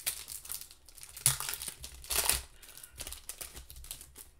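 Yu-Gi-Oh card pack wrappers being torn open and handled up close, a run of bright crinkling bursts with two louder crackles, no voices.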